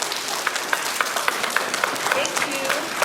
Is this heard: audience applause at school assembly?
yes